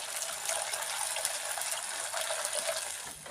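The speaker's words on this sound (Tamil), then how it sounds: "இதில் ஒரு 1/2 லிட்டர் அளவுக்கு தண்ணி சேர்த்துக்கலாம்." Water is poured from a vessel into a mushroom gravy mixture of fried masala and cornflour, a steady splashing gush that runs continuously for several seconds without talk.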